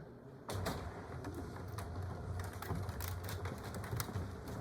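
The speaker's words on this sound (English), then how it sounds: "I promised I'd recline the chairs for you." Motorized reclining seats in a planetarium dome whir and click into motion, a steady mechanical hum with repeated sharp ticks running continuously after a sudden start, fairly close and alone without talk.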